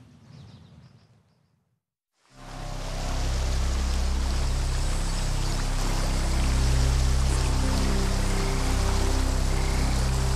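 River water flowing steadily along a riverbank, a continuous broadband rush that starts abruptly after a short quiet stretch of faint background sound and then stays loud and even with no voices.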